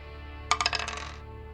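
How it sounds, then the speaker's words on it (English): Two dice rolled during a tabletop role-playing game session, a quick burst of bright clattering taps that bounce and rattle for under a second before settling, close and clear with no talking. "So we're going to go ahead and roll 2 dice for them."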